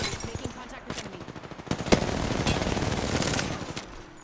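Automatic gunfire in the shooter game Apex Legends: rapid bursts of close shots, sparse at first and then thickening into sustained fire, with a character's voice lines faintly heard amid the shooting.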